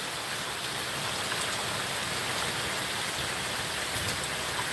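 Heavy rain pours down steadily during a storm in Virginia, a dense, even hiss close by that continues unbroken with no voices.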